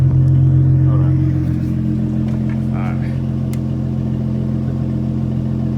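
A car engine with its exhaust cutout open runs loud and close with a deep, throaty exhaust rumble, holding a steady growl that eases slightly after the first second.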